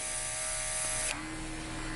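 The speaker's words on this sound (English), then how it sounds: "Turn your compressor on." Compressed air from an air compressor blasts steadily during a barbershop haircut, spraying clipped hair off a beard where it meets the mustache; a continuous loud hiss with a mechanical buzz underneath that shifts abruptly about halfway through, with no talking.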